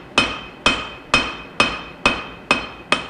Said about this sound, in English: a reasonably heavy cross peen for moving the material where I want it to be